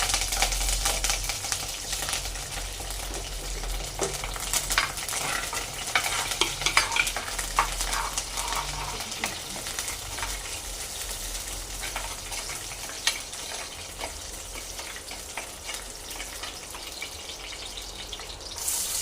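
Dried red chillies and curry leaves fry in sesame oil, a dense crackling sizzle with rapid popping and stirring, loud and close, no voices.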